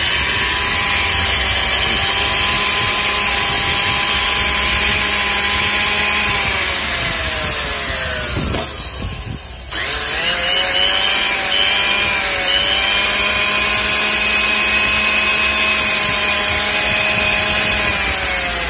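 A battery-powered cordless chainsaw cuts through wood, its steady high motor whine and chain rasp running loud and continuous with a brief dip midway before resuming.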